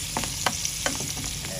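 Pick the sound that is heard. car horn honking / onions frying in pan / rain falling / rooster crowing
onions frying in pan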